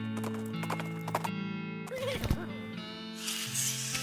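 Hoofbeats clip-clop alongside a horse's whinny in the West of Loathing video game, a crazy-eyed horse heard over a steady game music bed, with a louder neigh burst near the middle.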